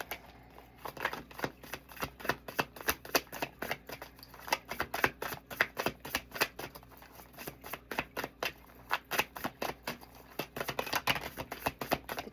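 Tarot cards shuffled by hand in a steady, rapid flutter of crisp papery snaps, fairly close and moderately loud, running continuously with slight bursts of intensity throughout.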